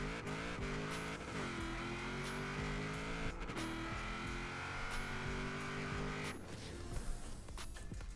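A 1000hp-plus Ford RS1800 drag build in Forza Horizon 4 screams hard through its gears, the engine note climbing then dropping at each quick shift, loud and close with a brief tire squeal.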